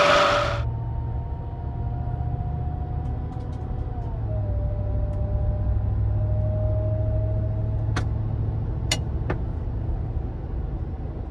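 A 2024 Ford F250 with the 7.3L Godzilla V8 and Gen 6 Whipple supercharger driving, a steady, loud engine drone with a faint whine shifting pitch midway, heard from inside and alone apart from a few brief clicks.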